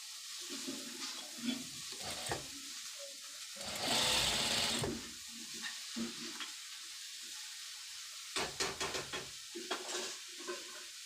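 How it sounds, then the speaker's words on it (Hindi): Close-up sewing machine stitching a pair of pants, running in short bursts of rapid whirring with pauses and a longer steady run in the middle, plus light handling noises between. "आप चाहो तो एक पौड़ी का सिलाई लगाओ या फिर सिलाई कॉर्नर की लगाओ"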